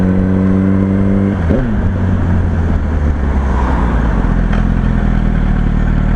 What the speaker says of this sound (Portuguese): Agora quando a moto aquece, ela começa a fazer um barulho mais legal.